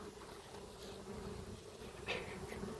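Honey bees hum in a steady, even drone around a hive on a sunny day, with a brief louder buzz as one passes close.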